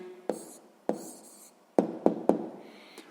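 Pen or pencil writing down a math answer on paper, a few short separate scratching strokes with pauses between them, close and quiet in an otherwise silent room.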